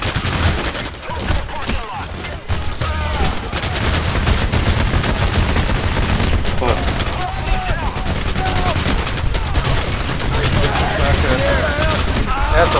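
Dense, nonstop gunfire rattles through a heist shootout in the video game Payday: The Heist. Rapid bursts overlap with heavier booms, all loud and close, while players talk over the barrage.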